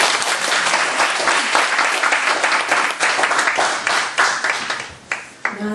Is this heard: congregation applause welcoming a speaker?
yes